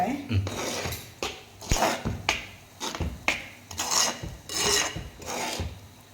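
Mustard seeds are stirred in a cooking pan for a Kerala cucumber pachadi, making a rhythmic rasping scrape with repeated strokes up close. A voice talks over the stirring.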